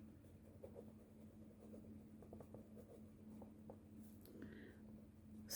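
Pen or pencil writing an answer to a seventh-grade geometry problem, a soft continuous scratching with short strokes across several seconds over a low steady hum.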